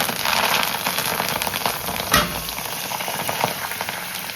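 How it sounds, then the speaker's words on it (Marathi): Fresh green fenugreek leaves fry in hot oil, a steady, close sizzle with dense crackling and one sharper pop partway through, continuous and alone. "आपण मेथी फ्राय करून घेऊया अगदी हिरवीगार मेथी मस्त ब्राऊन हळूवार फ्राय करून घेऊया"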